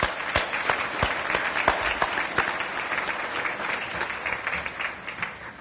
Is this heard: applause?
yes